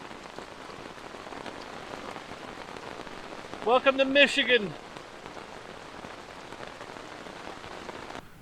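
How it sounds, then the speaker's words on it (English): Hail falls steadily during a cold, wet motorcycle camping trip in Michigan's Upper Peninsula, a dense, even pattering that runs the whole length while someone speaks briefly midway. "That's right, that's hail."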